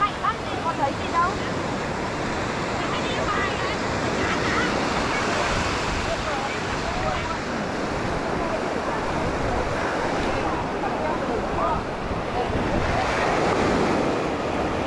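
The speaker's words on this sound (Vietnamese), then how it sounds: "đằng này sóng mạnh lắm, có thấy gì đâu" Strong sea waves crash and roll continuously onto a beach, heard as a loud, dense roar with wind buffeting the microphone throughout.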